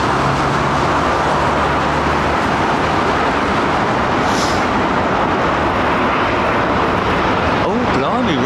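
An airliner on approach to London Heathrow runway 27R, a steady broadband engine roar filling the whole stretch with a low hum beneath, while nearby people talk over it.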